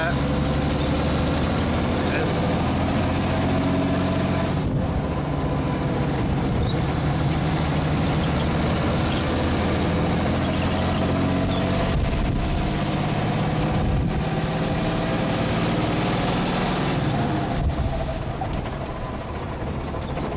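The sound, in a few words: 1934 Chevrolet speedster engine running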